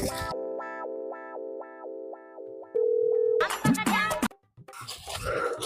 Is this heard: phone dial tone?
yes